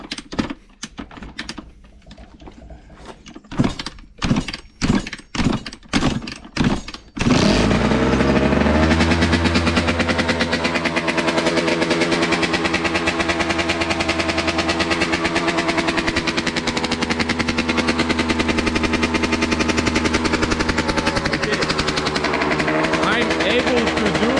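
A 2011 Kawasaki KX85 two-stroke dirt bike is hand kick-started: several sharp cranking thumps and clicks come first, then the engine catches and settles into a loud, close, buzzing idle that carries on steadily.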